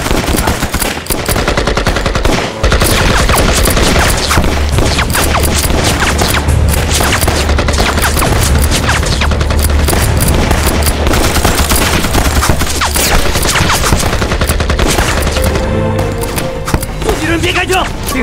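Loud, sustained gunfire in a kung fu anti-Japanese war film battle: dense machine-gun bursts and heavy shots rattle almost continuously, with booms and crashes mixed in and voices shouting through the fight.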